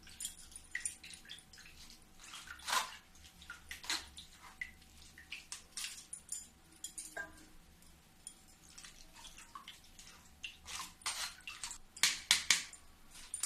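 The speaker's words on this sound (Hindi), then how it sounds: "अब इसको थोड़ा थोड़ा इसमें मैं डालूंगी और फिर से मैं चलाऊंगी।" Water poured bit by bit into tamarind pulp while it is stirred, giving intermittent splashes, drips and wet squelches close up against a quiet background, with no talking.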